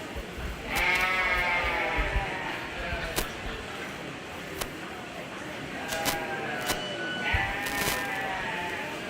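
Sheep at a county fair 4-H/FFA sheep show bleat several times in drawn-out, wavering calls, close and clear, over a low murmur of the show crowd.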